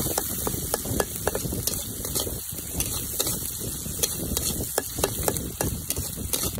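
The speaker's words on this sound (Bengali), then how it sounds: "পেঁয়াজ কুচি, কাঁচামরিচ, পেঁয়াজ কাঁচামরিচ আগে ভালো করে ভেজে নয়।" Chopped onion and green chilies frying in oil in a pan, a dense continuous sizzle with frequent sharp crackles and pops, close up and fairly loud, with no talking.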